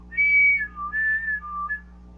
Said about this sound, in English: you're gonna hear that whistling sound